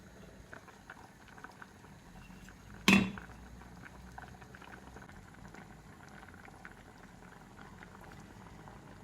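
Bulgur pilaf with onion simmers in a half-covered pot over lowered heat, giving a faint, steady bubbling hiss throughout, with one sharp clatter near the start.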